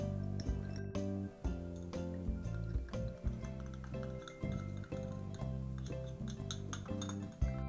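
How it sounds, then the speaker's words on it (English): Bright clinking of a utensil against a bowl while vinegar and egg are mixed for an apple turnover crust, rapid irregular taps over steady background music, close and clear. "Mix our vinegar and our egg."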